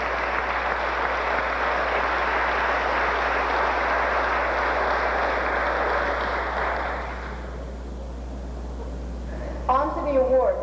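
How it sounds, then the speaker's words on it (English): Audience applause at a 1987 Marshall County Junior Miss pageant, a broad sustained clapping from a crowd that fades after several seconds, followed by a brief voice. "A big round of applause for all of them."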